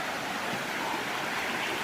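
A river stream flows at a campsite with a constant, dense rushing hiss. The sound is close and even throughout, with no voices.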